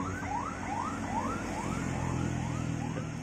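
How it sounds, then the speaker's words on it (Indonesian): An ambulance siren wails in rapid rising sweeps, repeating steadily at moderate distance over a low engine hum. "Ini suara ambulan yang kedengar."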